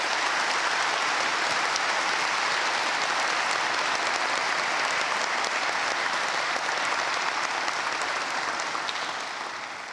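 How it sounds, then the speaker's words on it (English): Steady, dense applause from a large audience at a college commencement ceremony, a continuous wash of clapping that holds for about ten seconds before tapering slightly at the end, heard alone without talk. "Will the community please join me in a round of applause to thank Reverend Fortenberry"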